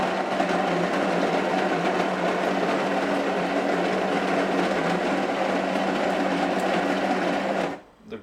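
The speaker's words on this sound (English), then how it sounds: "The grinder is not that loud, it's okay, but it did eat up quite some beans." A Philips HD7880 filter coffee maker's built-in grinder grinds beans in a steady, loud mechanical whir for several seconds, then cuts off abruptly near the end.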